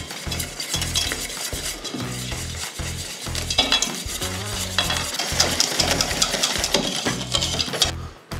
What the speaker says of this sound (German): jetzt habe ich unseren Tempura-Teig angerührt mit dem Eiswasser